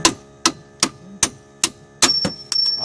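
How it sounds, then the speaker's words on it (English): Hammer blows knocking out the bolts on a front strut of a 2007 Chevrolet Impala: six sharp metallic strikes at a steady pace, close and loud, the last ones followed by ringing and a faint high squeal. "hammer, hit it from this side."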